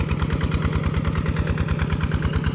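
A large tractor working in a rice paddy runs its engine steadily and loudly up close, with a fast, even chugging pulse throughout.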